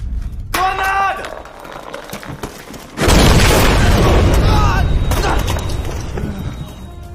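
A grenade blast in an action movie, heard after a tense lead-in with a shouted voice; a sudden loud boom at about three seconds gives way to a long, heavy rumble with debris.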